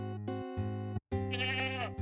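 Sheep character bleating in the Freddy Pharkas adventure game, a synthesized, tonal bleat in two separate bursts with a short gap between them, the second rising in a wavering trill.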